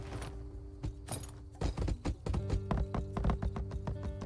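Horse hooves clip-clop in the video game My Time at Sandrock in a quick, uneven rhythm, close and fairly crisp, with a low hum running underneath.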